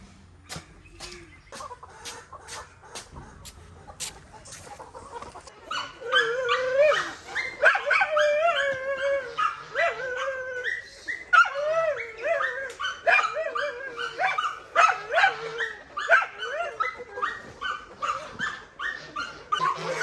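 Dogs barking and whimpering excitedly alongside clucking chickens at feeding time on a farm, a busy overlapping chorus that grows louder after a few seconds, with some faint voices underneath.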